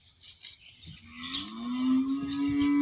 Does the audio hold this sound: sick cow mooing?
yes